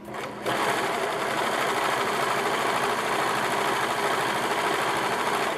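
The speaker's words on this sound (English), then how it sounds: "And now you're going to serge again, but this time the blade is not going to cut." A serger sewing machine runs along fabric right beside its blade without cutting, a steady, loud mechanical whir that starts after a brief pause and holds continuously to the end.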